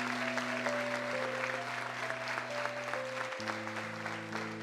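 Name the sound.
congregation applauding in church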